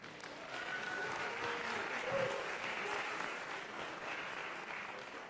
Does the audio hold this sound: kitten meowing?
no